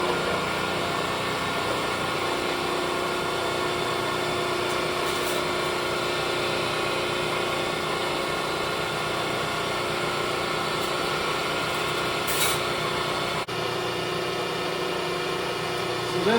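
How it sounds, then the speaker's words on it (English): A hydraulic pump for bending heavy wire runs as a steady, droning engine-like hum, continuous and fairly loud, with a few faint clicks and a brief shift near the end. "It gets a little loud when I turn the hydraulic pump on."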